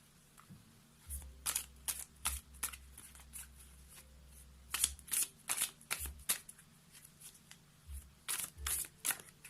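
Oracle cards are shuffled in quick, crisp riffling bursts, close and fairly quiet, repeating in irregular clusters with short pauses between, alone without talk.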